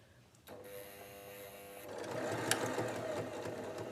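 A sewing machine stitches fabric for a small sunglasses case, starting with a whine and settling into a steady close mechanical hum and rattle that runs on without pause.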